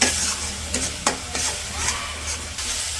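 Spices with cumin powder frying in a pan on a village stove, continuous sizzling broken by several sharp scrapes of a stirring spoon, close and fairly loud, no voices.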